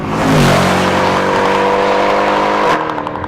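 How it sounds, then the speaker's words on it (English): A Mercedes-Benz C63 AMG Coupe Black Series engine revs hard under acceleration, its loud, rising tone climbing steadily before a sudden break as it shifts up, heard close and alone. "the sound it makes on upshifts is just fantastic"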